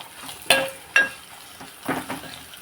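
Onions fry in the tempering for a three-lentil sambar, a soft low sizzle broken by a few sharp clinks of a metal spoon against the pan, and no voices.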